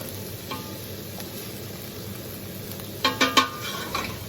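Vegetables stir-frying for low carb chicken chow mein in a home kitchen: a soft steady sizzle with a quick run of three or four utensil scrapes and clicks against the pan near the end.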